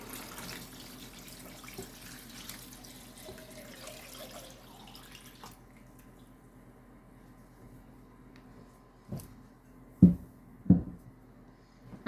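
Vegetable broth poured from a container into a cooking pot in a home kitchen, a steady liquid stream running for several seconds before tapering off, followed by a few louder knocks near the end.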